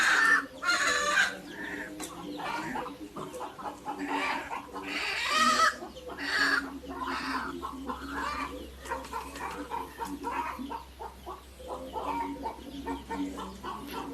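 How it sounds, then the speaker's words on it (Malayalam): Native country hens kept for brooding cluck and call near and far in a farmyard, a busy overlapping chorus of clucks and squawks running throughout with other farm sounds faintly behind. "ഇനി ഇതിലേക്ക് അദ്ദേഹം വെക്കുന്നത് നമ്മുടെ നാടൻ കോഴി, കരിയില കോഴികൾ എന്നൊക്കെ പറയുന്ന രീതിയിലുള്ള നമ്മുടെ തനി നാടൻ കോഴിയാണ്"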